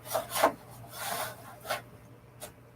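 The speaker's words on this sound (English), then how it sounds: "This is the back of the device itself, and I'm going to put this card back in." Metal card sliding back into the rear slot of a Cisco ASA 5550 security appliance: several short rubbing, scraping strokes, close and fairly quiet, with pauses between them.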